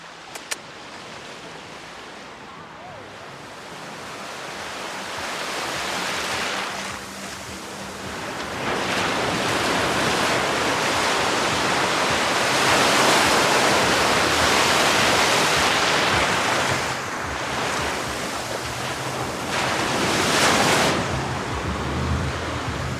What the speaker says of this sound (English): I have waves coming up and crashing into my ankles.